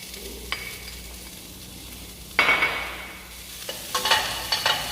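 Onion sautés in olive oil in a hot pan, a soft continuous sizzle broken by louder scraping stirs near the end.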